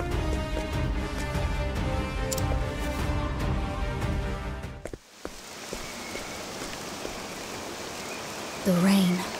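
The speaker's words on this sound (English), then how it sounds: "The rain." Steady rain patters in Octopath Traveler II as a dense, hissing wash that shifts to a softer texture midway, ending with a brief louder sound.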